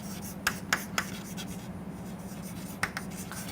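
Marker or chalk strokes tap and scratch across a lecture board, a handful of short distinct strokes over a steady low room hum.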